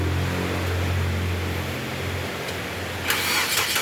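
An overheating Nissan Grand Livina already running at a steady low idle, then a brief starter crank and catch near the end, recorded close up in a workshop.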